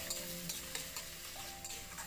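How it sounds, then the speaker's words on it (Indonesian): Curly green chilies stir-frying in hot oil, with a steady sizzle and crackle under repeated clicks and scrapes of a utensil stirring the pan, no talking. "Lalu kita tumis cabai hijau keritingnya ya. Kita goreng-goreng dulu,"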